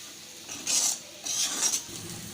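Broad beans (chikkudukaya) fry on a low flame and are stirred in a pan, producing two short bursts of close, hissing scraping over a soft, constant sizzle.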